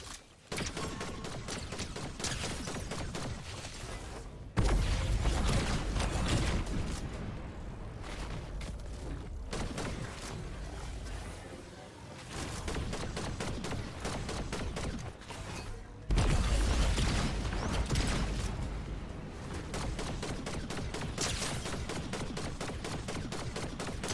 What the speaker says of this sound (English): looked to shoot at this guy who's pushing me. Now I will.